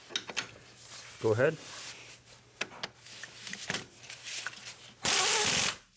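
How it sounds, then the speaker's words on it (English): A socket ratchet tightens transmission mount bolts on a VW Passat, giving short bursts of clicking between pauses, with brief speech and a louder rasping burst near the end. "let's switch to the bigger socket so we can tighten these two"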